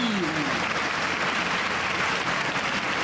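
An audience at an academic award presentation claps steadily and densely throughout. The applause is moderately loud and evenly sustained, with faint voices mixed in.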